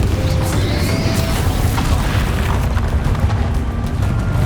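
Confringo blasting spell detonating in the Hogwarts Legacy video game, a loud, dense, booming rumble of explosive bursts and crackling debris that runs continuously.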